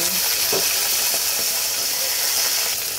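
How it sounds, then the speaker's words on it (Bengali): Cut flat beans frying in hot oil with cumin seeds and bay leaf, a loud continuous sizzle with occasional stirring knocks, close up. "জিরা তেজপাতাটা যখন হালকা ভাজা হয়ে যাবে ঠিক ওই সময় দিয়ে দেব কেটে রাখা সিম"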